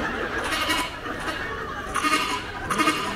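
A voice imitates a goat bleating during a religious sermon, giving a few wavering, nasal bleat-like calls in short bursts, fairly close and clear, with the echo of a large gathering behind it.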